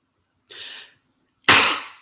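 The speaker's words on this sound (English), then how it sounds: "God, I feel like I'm coughing up a lung." Two separate bursts of a harsh cough, the first fairly soft and the second a loud, forceful hack about a second later, with nobody talking.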